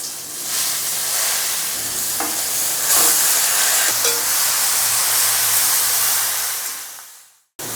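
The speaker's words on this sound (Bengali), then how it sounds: "দুটো শুকনো লঙ্কা দিয়ে দিলাম, অল্প করে 1 চা চামচের মতো 5 ফোড়ন। এটাকে জাস্ট একটু এইভাবে ভেজে নেব।" Dried red chillies and a teaspoon of five-spice seeds frying in hot oil in a pan give off a steady, close, loud sizzle. The hiss carries on for several seconds with light crackles, then cuts off abruptly. No one speaks.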